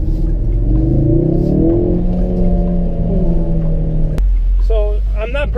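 A 2016 Ford Focus RS with a manual gearbox accelerates, its engine note rising and stepping down as gears shift, loud and close, followed by a sharp click and brief higher tones near the end.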